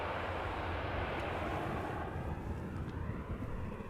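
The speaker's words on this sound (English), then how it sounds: "you might occasionally hear an airplane that is passing over" Airplane engine roaring steadily overhead near Amsterdam Schiphol Airport, a broad continuous rumble with some wind, loud and sustained without voices.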